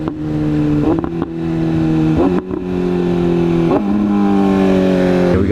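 A car engine revs hard under throttle, loud and near, with rising pitch in repeated pulls and brief dips between shifts, like a racing car accelerating through gears.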